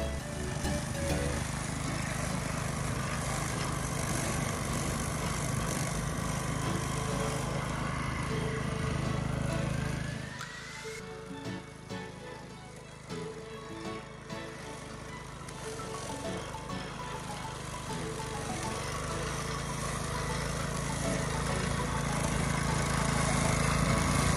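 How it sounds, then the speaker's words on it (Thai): A used Japanese Robin EY18 5HP grass cutter engine runs steadily and loudly close by, dips briefly partway through, then climbs back up as the throttle opens. "นี้เร่งเครื่องแค่นี้เดียวเองนะครับ"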